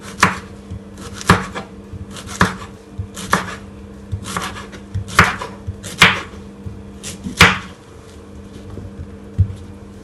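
A knife chops an onion on a cutting board for a hibachi-style steak and shrimp dinner, giving about ten sharp, close knocks at an uneven, steady pace with quiet kitchen hum between strikes.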